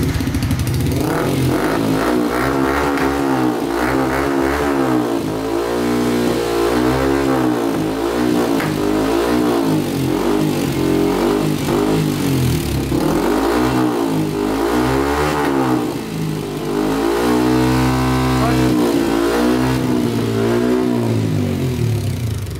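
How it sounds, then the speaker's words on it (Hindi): A Yamaha R15 v3 150cc motorcycle with a loud aftermarket exhaust revs repeatedly, the engine note rising and falling in several throaty bursts between steady idling, close and alone. "तो ये बहुत ज़बरदस्त एग्जॉस्ट है, अब इसको ट्राई करते हैं कि क्या आउटपुट देता है ये हमें।"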